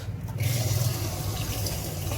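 Water poured into an egg boiler makes a steady, close splashing trickle with a low hum underneath, lasting a couple of seconds without talk.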